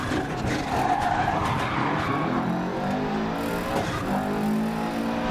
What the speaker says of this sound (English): So you want to use the handbrake a little bit here.